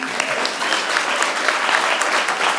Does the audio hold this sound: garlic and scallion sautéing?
no